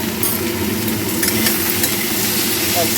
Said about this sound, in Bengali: এই মশলাগুলো দিয়ে আমি কষিয়ে নেব